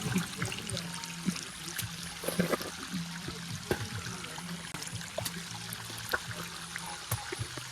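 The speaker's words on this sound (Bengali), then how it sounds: "দেখো জল পড়ছে" Cold water runs and splashes steadily from an outdoor flow while someone washes their face, a continuous close trickle with small irregular splashes and no talk.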